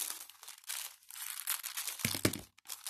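Plastic parcel packaging from an online order, two packages taped together, crinkles and tears close by in quiet bursts, with a sharper rip near the end.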